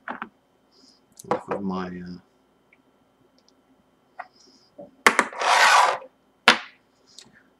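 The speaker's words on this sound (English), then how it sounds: "let me just unscrew Mr. VV Nova" A VV Nova vape atomizer being unscrewed from a mod: short scraping rubs and clicks of the threads in separate bursts, with someone speaking briefly between them.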